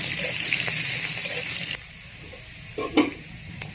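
Onions frying in a pan, a steady hiss of sizzling oil that drops quieter partway through, followed by a few soft scraping stirs near the end.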